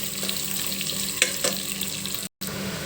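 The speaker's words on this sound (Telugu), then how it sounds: "ఆనియన్ చాలా మంచిగా ఫ్రై అయినాయి చూడండి" Onions and curry leaves sizzle steadily in a hot pan, a close continuous frying hiss with a few sharp crackles and pops, and no speech.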